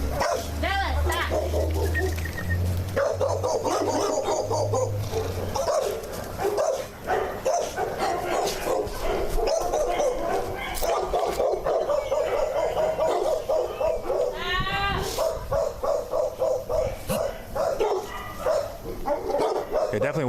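Dogs at a breeding property bark, yip and whimper in their cages, a dense chorus of close barks and whines running nearly nonstop, with people talking among them.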